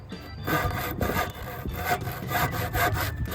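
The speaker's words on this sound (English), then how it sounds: "I'm slightly better with a handsaw." A handsaw cuts through a wooden gazebo post in quick, rhythmic rasping strokes, close and clear, with no voices over it.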